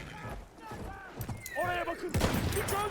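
Gunfire from a Battlefield 1 match, a few sharp shots and a burst near the end, mixed with game effects and someone talking over the action.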